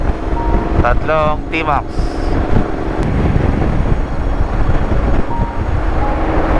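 Strong wind buffets the microphone with a heavy, constant roar, while voices speak briefly in the middle.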